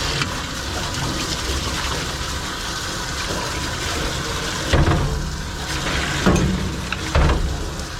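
Running water rinses a Corgi during grooming, a steady broadband gush with a few louder surges as the stream shifts over the dog's coat.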